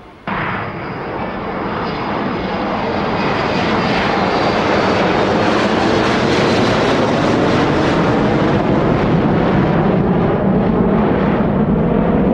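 A passenger airliner in flight to Bangkok, a loud, steady broadband cabin roar of engines and airflow that rises quickly at the start and then holds constant.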